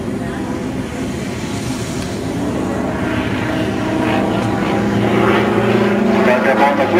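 Propeller engine of an aerobatic airplane at a 2009 airshow, throttling up after a tail slide; a steady loud drone that builds slightly in strength, with a person talking over it.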